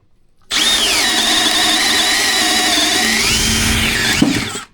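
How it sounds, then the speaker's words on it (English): A Milwaukee SubCompact drill boring a hole with a 5/8 spade bit in drill mode at speed 2 runs as a loud, steady motor whine for about four seconds, with its pitch dipping and rising under load before it stops. "Can it drill a 5/8 in drill mode in speed 2?"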